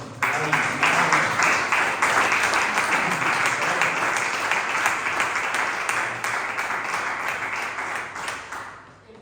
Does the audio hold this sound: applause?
yes